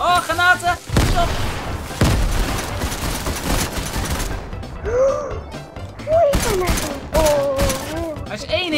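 Grenade blasts and gunfire in a Fortnite match boom and crack in loud, heavy bursts, followed by scattered impacts while players talk excitedly over the chaos.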